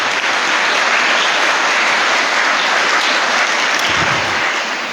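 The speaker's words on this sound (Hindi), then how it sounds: "भरपूर तालियों में उनका शुक्रिया अदा करते हैं।" A congregation at a Sunday Holy Mass claps in loud, sustained applause filling the church for the whole stretch.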